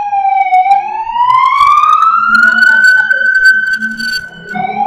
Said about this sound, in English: That's like the 5th ambulance.